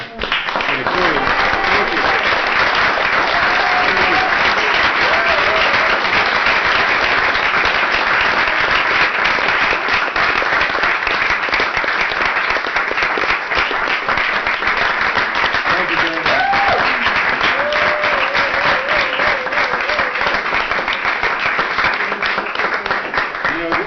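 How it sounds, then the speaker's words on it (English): An audience at a talk on elections and solar energy applauds steadily and loudly for over twenty seconds, a dense continuous wash of clapping with faint voices underneath. "those of you who applauded woke up the other half who were sleeping"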